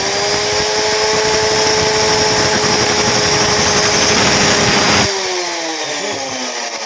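A power tool cuts through iron with a loud, steady high-pitched whine and dense grinding noise for about five seconds, then the cut ends abruptly and the motor winds down.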